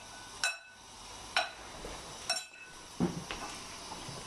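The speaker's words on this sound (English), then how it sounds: "Put your dressing on and then just mix it all together" A beef fillet salad with cashews, pistachios and walnuts is tossed with dressing in a bowl, giving four soft clinks and scrapes of utensils against the dish, fairly quiet and close.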